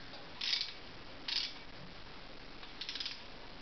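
A 12mm socket wrench tightens a bolt while a Boyer Bransden Micro Digital motorcycle ignition is fitted, giving three short metallic ratchet clicks spaced apart in a quiet space.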